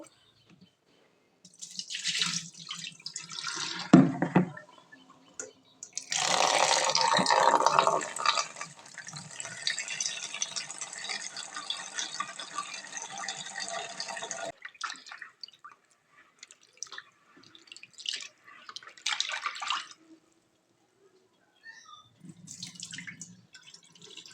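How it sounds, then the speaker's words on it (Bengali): Soaked red lentils (masoor dal) washed by hand under running tap water, with sloshing and splashing that comes in bursts, a long steady stretch in the middle, then softer drips and swishes near the end. "এখন এখন ভালো করে ধুয়ে নিচ্ছি মুসুরির ডালটা"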